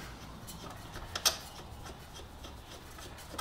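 Ratchet tightening the rear wheel nut on a Honda CB125E gives faint, quick mechanical clicks with one sharper click near the middle, heard alone in a quiet workshop.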